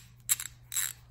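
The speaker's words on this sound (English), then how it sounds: "Very nice ratcheting mechanism." A 3/8 drive ratchet clicks through its mechanism in two short bursts of fine, rapid pawl clicks, quiet and close against a low background hum.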